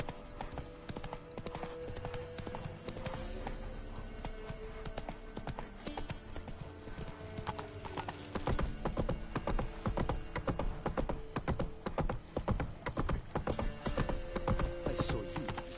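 Roach the horse trots in The Witcher 3 as steady hoof clip-clops run through the whole stretch over a busy game soundscape, growing denser and louder partway through, with no talking.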